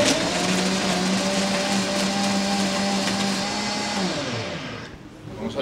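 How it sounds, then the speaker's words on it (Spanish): A blender whirs steadily for about four seconds while crushing ice, lime juice and boiled liquid sugar into a margarita, then winds down and stops; the motor hum is loud and close. "Vamos a licuar casi por unos 30 segundos."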